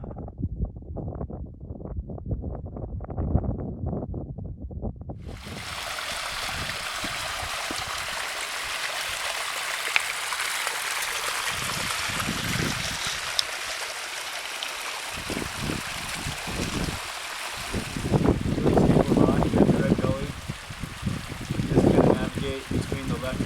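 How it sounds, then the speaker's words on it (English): A mountain stream runs down near Cottonwood Lake below Crestone Peak, a steady broadband rush of flowing water that carries on for most of the stretch, with bursts of talk and wind-like handling noise at the start and near the end. "You got this stream running down."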